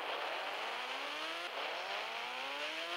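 A car accelerating in Indian Bike Driving 3D, its engine whining upward through rising gears in a steady, loud, close climb with a brief shift break midway.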